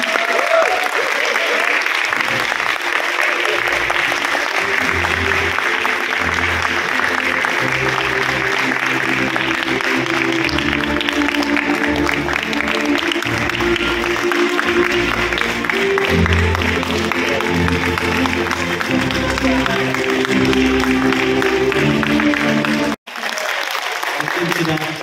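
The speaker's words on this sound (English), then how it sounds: "let us give a warm of applause to our Lifetime Achievement Awardee, Dr. Edgardo Cortez" At an award ceremony, an audience gives loud, sustained applause for a lifetime achievement honoree, a surgeon. The clapping holds for over twenty seconds over music, then cuts off abruptly.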